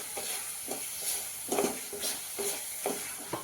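Masala for urad dal amti roasting in oil in a pan, a steady close sizzle with repeated soft scrapes of stirring rising and falling at an even pace.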